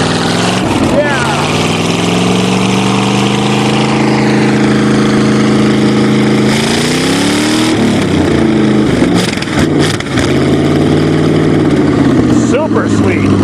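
A 2009 Chevrolet engine idles loudly and close after a cold start, a steady rough drone whose pitch wavers and rises briefly as the choke comes off, with no talk over it.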